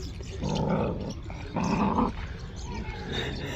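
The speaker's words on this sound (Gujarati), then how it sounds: "બીજા ગામના ગલુડિયા દેખીને હામું થાય" Village dogs growling and snarling in a scuffle, two loud bursts of rough growls close by with a lower rumble between them.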